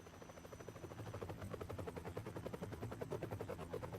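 Helicopter rotor chopping in the video game Metal Gear Solid 3: Subsistence, a steady, loud rhythmic thudding with dense repeated pulses throughout, mixed with game noise and no talk.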